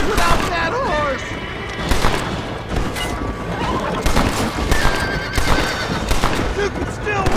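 A horse neighs and whinnies loudly in the Western video game Red Dead Redemption, with hoof clip-clops, scattered gunshots and shouted dialogue around it.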